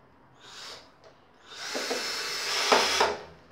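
A power screwdriver drives a screw into a small wooden chest: a short whirring burst, then a longer, louder whine that strains near its end, close and without speech.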